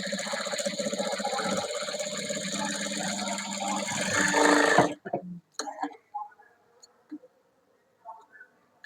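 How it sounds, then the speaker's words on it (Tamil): A sewing machine stitching a blouse band runs with a steady, close mechanical whir for several seconds, then stops abruptly, followed by a few short clicks and handling taps. "இன்னும் இது பக்கத்தில் இன்னொரு தையல் போட்டுக்கலாம்."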